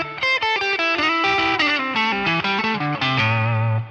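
An electric guitar through a Tube Screamer overdrive plays a quick riff with warm, gritty distortion, notes shifting rapidly before settling on a sustained low chord.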